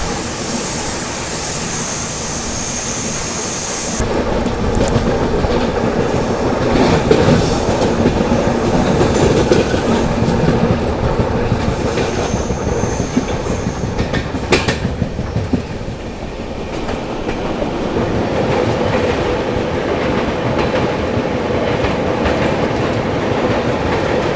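The 12264 Nizamuddin–Pune AC Duronto Express running slowly through a ghat section, a loud, continuous rolling rumble with rhythmic wheel clatter and occasional squeals, heard from on board with no talk.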